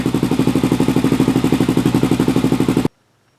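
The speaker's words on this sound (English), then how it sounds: "the Ecosystem Big Gun slip-on exhaust installed on my 2007 Honda 400 EX" A 2007 Honda 400EX ATV fitted with an Ecosystem Big Gun slip-on exhaust idles close by with a steady, rapid rhythmic thumping, loud and alone, then cuts off abruptly into near silence.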